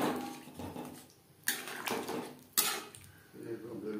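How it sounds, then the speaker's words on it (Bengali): Hot water is poured into a pan of tilapia fish curry with potatoes, a rushing splash mixed with sharp metallic clanks of utensils against the pan. The sound is close and moderately loud. "ফ্লেমে নাড়াচাড়া করে নেওয়ার পর দিয়ে দেব জল"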